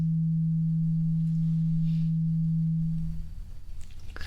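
A steady low sine test tone from a hearing test holds for about three seconds, then cuts out. Faint rustling follows, heard close with no talking.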